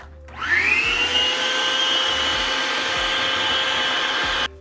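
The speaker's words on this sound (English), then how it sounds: "take a vacuum and then just get rid of any of the debris that fell down below" A vacuum cleaner starts with a rising whine and runs steadily at close range while clearing debris from under the engine bay of a BMW F95 X5M during a carbon fiber intake install, with a few dull knocks.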